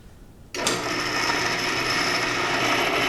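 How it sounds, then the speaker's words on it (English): A 1960s Craftsman drill press with its original motor starts abruptly and runs steadily, its noisy pulley giving off a continuous whirring, rattling mechanical noise up close. "There's some noise coming from this pulley up here."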